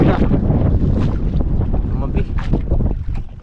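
A pair of small boats out on the water produce a steady low rumble of motor and churning water, close and fairly loud, mixed with gusty wind noise and a few brief voices.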